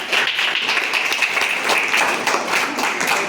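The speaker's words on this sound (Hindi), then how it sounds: "बटुलिया के लिए तालियां" Audience at a block-level school quiz competition applauding the first-place government inter college, a steady, even patter of many hands clapping throughout.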